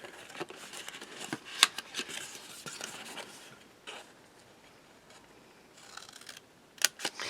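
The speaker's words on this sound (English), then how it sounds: "We're going to cut on these score lines, okay?" Paper being cut along score lines for a traveler's notebook folio, steady soft snipping and rustling over about seven seconds with a few sharper clicks, fairly quiet and with no voice.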